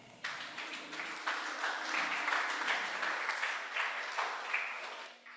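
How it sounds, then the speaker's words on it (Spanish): Church congregation breaks into sustained applause, a dense steady wash of many hands clapping together, fairly loud and filling the room with no voices over it. "Dile un aplauso al Señor."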